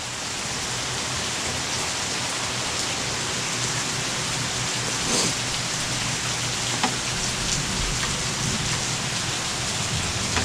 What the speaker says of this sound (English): Anywhere from light to moderate to heavy rainfall.